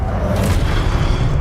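The Confringo fire spell in Hogwarts Legacy lands as a loud, dense, booming blast that fills the whole short moment with a sustained low rumble, heavy and close without a clear start or end.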